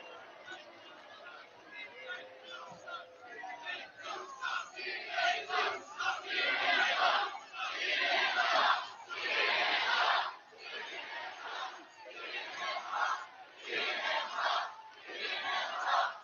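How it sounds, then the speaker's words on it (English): A large outdoor political rally crowd cheers and roars in swelling waves of shouting and clamor, loud and sustained with brief lulls between surges. "This is a hell of a big crowd"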